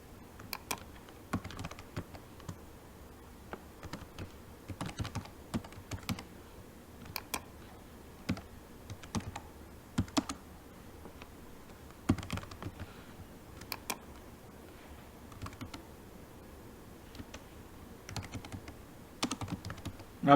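An email being composed on a computer keyboard, with steady, close keystrokes in uneven bursts and brief pauses running throughout, no voices.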